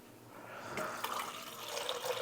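Reverse osmosis water pouring, a steady close rush of liquid that grows slightly louder as a container fills, with no talking.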